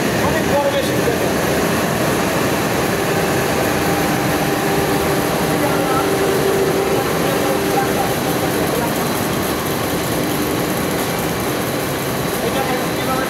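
A large textile stenter machine runs with a loud, steady mechanical roar and hum, a constant dense drone from start to finish with no breaks.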